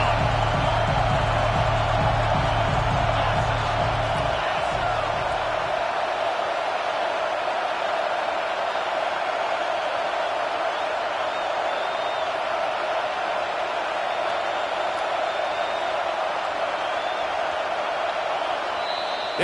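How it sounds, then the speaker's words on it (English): Home crowd roaring in the College Football 25 video game as the defense faces 3rd down against SMU, a steady, loud wall of stadium noise held throughout. "Here comes this home crowd as the defense tries to get off the field on 3rd down."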